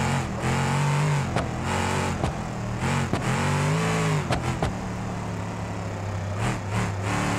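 A car engine in BeamNG Drive revving and surging continuously while driving at speed with wheels spinning and lost traction, loud and close, pitch rising and falling through repeated throttle bursts with brief gear-change dips.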